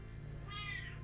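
A cat meows once in the Blue Force video game, a short rising mew heard clearly over a low droning background hum.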